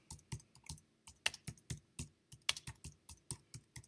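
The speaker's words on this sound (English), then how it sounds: "So let me type in" Computer keyboard being typed on at close range, a quick, steady run of crisp key clicks with a few louder taps mixed in and no voice.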